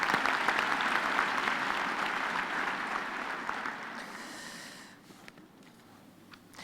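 Audience applause fills a university graduation hall at the Free State ceremony, a steady dense patter of many hands that holds for about four seconds, then thins and fades to a quieter tail.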